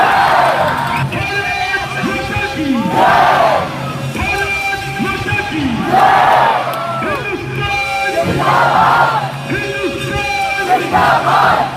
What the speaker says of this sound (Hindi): पूरा स्टेडियम तालियों और नारों से गूंज रहा है